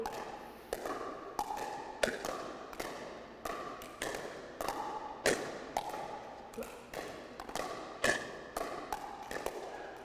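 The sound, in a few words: paddle volleys hitting the ball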